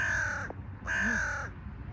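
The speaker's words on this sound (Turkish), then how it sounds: "tamam karga." A crow caws twice at a beach, two drawn-out harsh calls about half a second apart, fairly clear above a steady background of wind and surf noise.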